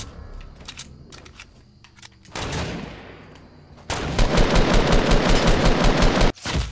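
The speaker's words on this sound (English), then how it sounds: "We're getting shot at" Gunfire in the video game Fortnite, loud bursts of rapid automatic fire and dense overlapping shots that come in waves, with clusters of single cracks before heavier sustained volleys, close and intense.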